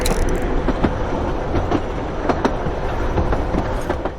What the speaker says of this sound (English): While the train is still moving,